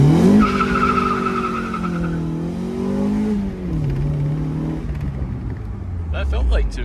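Engine of a 1.6-litre Mazda Miata rising and falling in pitch as it revs through gears while driving, loud and close, with a short squeal near the end.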